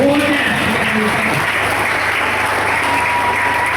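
A church congregation applauds and cheers in praise of God during a prayer marathon, dense steady clapping at close range filling the whole stretch, with a few voices calling out near the start.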